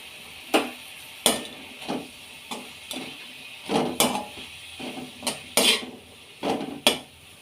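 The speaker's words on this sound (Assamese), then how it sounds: "ভাজিখিনি আধা ভাজ খোৱাৰ পিছত অকণমান চয়া চচ জালুকৰ গুড়ি আৰু দুটা কেঁচা জলকীয়া দি দিছোঁ" A spatula stirs broccoli stir-fry in a pan with soy sauce, black pepper powder and green chillies, making about a dozen sharp, separate metallic scrapes and clinks over a faint sizzle, with no talking.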